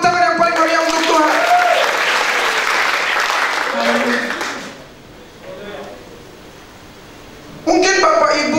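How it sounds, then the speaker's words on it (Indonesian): A church congregation at a Sunday service applauds loudly for several seconds, the clapping then fading into quieter room noise before a voice and musical tones cut in near the end. "berikan tepuk tangan yang paling meriah untuk Tuhan"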